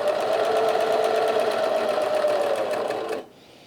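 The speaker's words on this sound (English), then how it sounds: "I'm going to feed it into the machine, and I'm always going to make sure that the machine is cutting off at least some of the fabric." A Bernina 1100DA serger overlocker stitches and trims stretchy fabric, a loud, close, steady mechanical whir with rapid rhythmic chatter that runs continuously and then abruptly stops.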